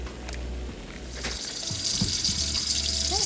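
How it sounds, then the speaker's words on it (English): One pound of spinach dumped into a pot of boiling water for palak paneer, giving a soft watery splash and bubbling over a low, steady kitchen hum, with no talking. "So dump this 1 pound of spinach into the boiling water."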